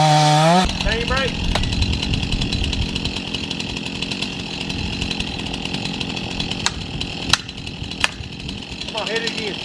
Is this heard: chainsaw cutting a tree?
yes